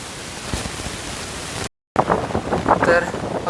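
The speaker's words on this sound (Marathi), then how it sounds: "माहिती नाही माझा आवाज किती क्लिअर येईल कारण तो वारा प्रचंड आहे मी मायक्रोफोन लावला आहे" Strong wind on a hilltop fort buffets a microphone, making a rough, roaring noise. A brief total dropout interrupts it partway through, and the gusts return louder and choppier afterward.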